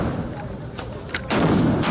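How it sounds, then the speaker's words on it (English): Firecrackers go off at the start of a temple lantern festival pilgrimage: a few sharp, separate cracks, then a dense, loud burst of rapid popping near the end. "Exploding firecrackers marked the start of the quadrennial Hsinkang Mazu Temple Lantern Festival pilgrimage on February 7th."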